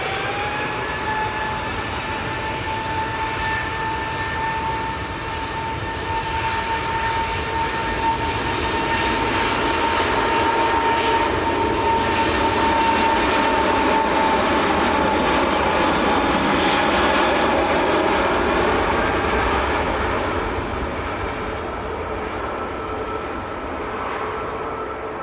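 An Emirates airliner bound for Dubai passes at Manchester Airport, a steady broad jet roar with a whining engine tone that swells to a peak midway and slowly fades, heard alone without talk.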